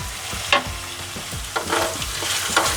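Egg pasta frying in a hot pan for an Indian-style recipe, a steady close sizzle broken by several sharp scrapes and clacks of a spoon stirring it.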